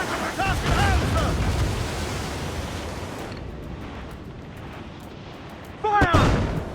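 Ship cannons boom in heavy broadside volleys in Assassin's Creed IV: Black Flag, roaring over wind and ocean surf, with shouting voices in the middle of the battle.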